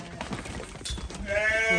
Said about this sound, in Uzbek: Jonivor qaranglar. Uzun qo'y ekan haqiqiy.